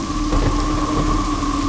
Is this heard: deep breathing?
no